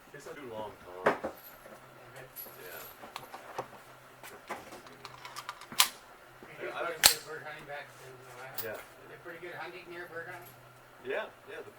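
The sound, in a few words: Smith & Wesson Model 22A pistol firing CCI Mini Mags .22LR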